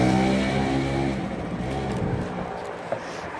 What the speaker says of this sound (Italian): aspetta che non si capisce niente con tutte le macchine che passano